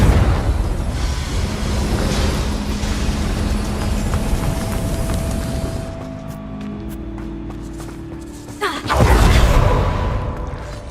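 A Confringo blasting spell from the video game Hogwarts Legacy ends in a loud explosive burst after several seconds of roaring rumble, with a whooshing blast and lingering noise close by.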